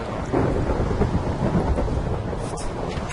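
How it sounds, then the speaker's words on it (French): A thunderstorm rumbles through a Minecraft world: steady rain mixed with a deep, rolling thunder roar that stays loud for several seconds, with no talking. "Qu'est-ce qui s'est bien fait les orages dans Minecraft?"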